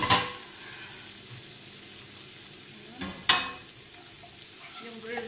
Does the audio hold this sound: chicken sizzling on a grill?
yes